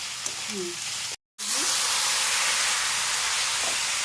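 Prawn heads fried with turmeric and salt hiss and sizzle loudly in a pan as water is added; the steamy roar jumps after a brief gap, while a voice speaks faintly early on.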